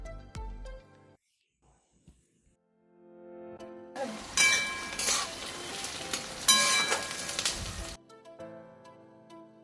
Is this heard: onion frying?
yes